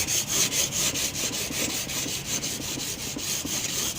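Steady back-and-forth rasping of fine sandpaper on silver, an even rhythmic scraping of about three strokes per second, close by.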